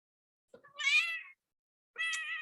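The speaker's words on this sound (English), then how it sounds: "Apparently my cat had a question, if y'all just heard her joining in." A house cat meowing twice, each call a drawn-out, fairly quiet meow separated by a second of silence.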